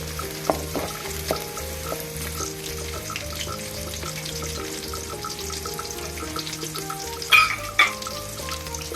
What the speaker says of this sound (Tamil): சின்ன வெங்காயம் எல்லாத்தையும் போட்டு நல்லா வணக்கிடலாம் வெங்காயமும் பூண்டும் நல்லா பொன்னிறமாக வதங்குற வரைக்கும் வெயிட் பண்ணணும்